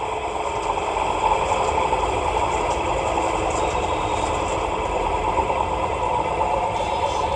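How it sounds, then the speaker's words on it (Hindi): A three-phase electric motor runs on a single-phase supply with no capacitor, giving a steady, loud mechanical hum and whine that holds without a break from start to finish. "बिना कंडेंसर चला के आपको दिखा रहे हैं 3 फेज मोटर को सिंगल फेज से"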